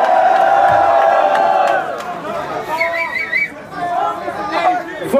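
A hip-hop concert crowd in Arizona cheers and shouts, loud and dense at first and then dipping into scattered whoops and chatter, with a voice cutting through the noise.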